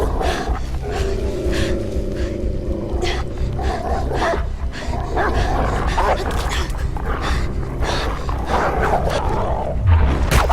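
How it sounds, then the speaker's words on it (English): Dog barking in the video game Beyond: Two Souls, mixed into dense game audio with roaring tones while someone talks loudly over it throughout. "Fucks up with this dog."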